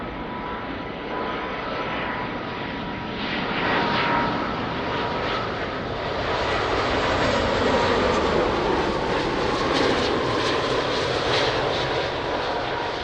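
An airliner's jet engines roar steadily and loudly at Lisbon Airport, a broad sustained rumble that swells slightly midway and holds without interruption.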